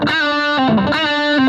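A distorted electric guitar note bends up and back down in quick repeated bends, loud and sustained.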